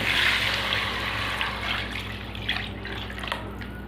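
Water poured into a pan of Bengali silver carp fish curry with potatoes, a steady close splashing trickle that runs on alone and gradually eases.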